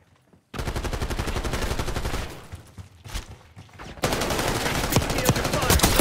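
Heavy bursts of automatic gunfire from the Call of Duty Black Ops 6 beta video game, loud and dense, dipping briefly mid-clip before a renewed sustained barrage.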